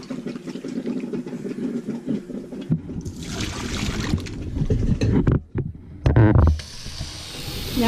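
Water is poured out of a glass coffee pot while cleaning a coffee maker, a close splashing gush that runs several seconds, briefly cuts off, then resumes before trailing into a trickle.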